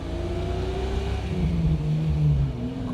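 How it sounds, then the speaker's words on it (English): The V12 engine of a 1974 Jaguar E-Type Series III revs up on a farm road, a loud, close, smooth rising drone that climbs in pitch as the car pulls hard. "Great sound, my goodness. Pulls so well. That V12."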